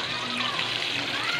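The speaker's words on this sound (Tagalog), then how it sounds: "Ayan, nilagyan ko muli ng tubig." Water pours steadily into a cooking pan while a vegetable dish is being made, a continuous close splashing hiss with no talking.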